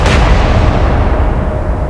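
Heavy ship gunfire in the naval battle video game Atlantic Fleet, a loud booming blast that rolls into a sustained dense rumble, with no voices.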